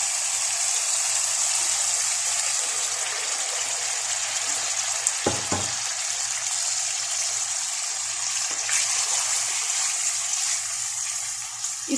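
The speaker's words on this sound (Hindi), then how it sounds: "अब हम इसमें आलू का पानी डालेंगे।" Potato cooking water poured into a pan of white chickpeas frying for curry gives a steady, close hissing sizzle and rush that runs throughout, with a brief dull knock partway through.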